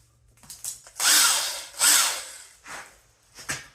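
A handheld cordless power drill whirs in several short bursts, two longer pulls followed by quicker brief spins, close by.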